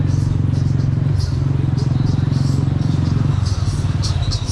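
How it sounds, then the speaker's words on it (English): Motorbikes riding along a busy Nairobi street, a close, loud, continuous engine putter with a throbbing pulse, accompanied by faint street clatter and background voices. "You can see now both motorbikes are using wrong side."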